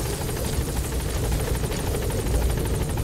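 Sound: support helicopter arriving in video game MGSV: The Phantom Pain

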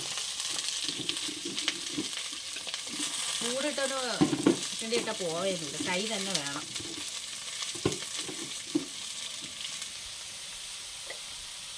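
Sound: onions frying and being stirred in a pan

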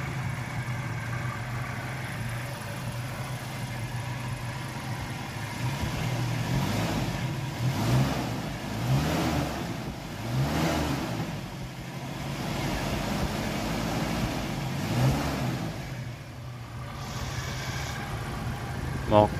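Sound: car engine running and revving

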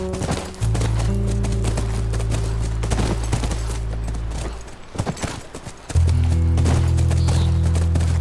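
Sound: horse hooves clip-clopping in The Last of Us video game

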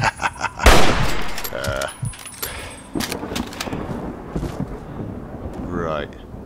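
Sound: gunfire, Fallout 3 video game

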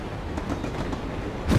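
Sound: train riding on rails in Amazing Spider-Man 2 video game

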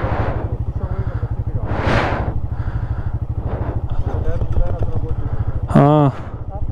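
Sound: motorcycle engine revving with the clutch half engaged

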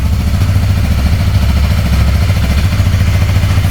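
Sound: single-cylinder motorcycle engine revving

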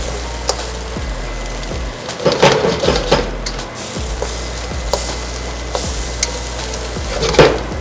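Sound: stirring food searing in a hot pan

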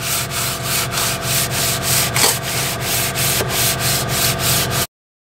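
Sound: sanding an engine block with 180 grit on a block sander

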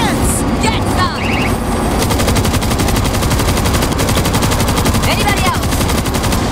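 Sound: installed machine gun firing in the video game World War Z

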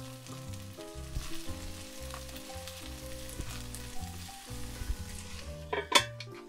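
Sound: rapeseed blossoms steaming and sizzling in a covered pan

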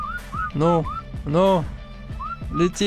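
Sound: player whistling to a Desmodus in ARK Survival video game

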